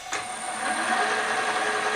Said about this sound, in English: So this is a 4mm drill.